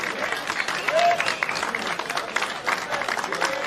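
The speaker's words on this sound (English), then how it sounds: "I think he deserves a clap." A small group in a pub claps briefly and unevenly, close by, with someone's voice heard over the applause.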